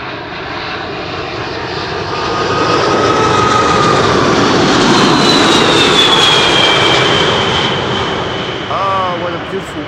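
Jet engines roar as a 17-year-old airliner arriving from Nairobi passes close by, the sound swelling to a loud peak mid-clip then easing, with a high whine riding over the rumble.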